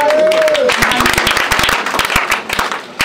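A church congregation at a testimony service at Centre Péniel in Divo bursts into loud, sustained applause: dense, rapid clapping from many hands close by, with a brief high whistle-like tone near the start.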